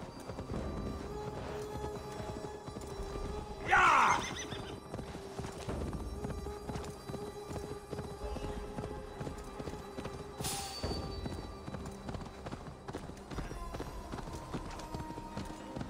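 Horse hooves clip-clop steadily in the Assassin's Creed Valhalla video game, layered with game music and ambience, with a sharp louder burst near the start and another brief accent later.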